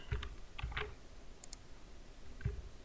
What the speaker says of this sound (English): I'll type here